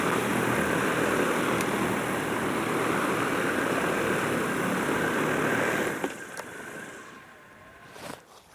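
Propellers of a massive home-built 100kg lifting drone roar steadily in flight, then cut out and fade, leaving faint rustling.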